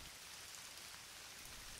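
Steady rain falling outdoors on a meadow of clover and burdock leaves, a soft continuous hiss of drops with no pauses, faint and even throughout.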